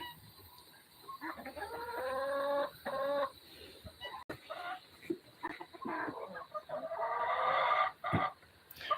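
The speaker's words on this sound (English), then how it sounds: "There's the rooster right there." A nearby rooster clucks in a series of loud, throaty calls, pausing briefly between bursts, with farmyard background noise.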